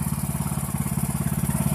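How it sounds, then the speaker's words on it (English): A Poulan Pro PP175G42 lawn tractor engine idles at lowered throttle, a loud, close, steady low putter with an even rapid pulse and no voices over it. "you can get off the tractor, and it's still running."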